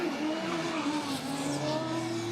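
Formula Student race car of the Modena team pulling away at Formula Student UK 2023, a steady engine drone with a slowly rising tone, mid-distance and fairly loud, with no voices.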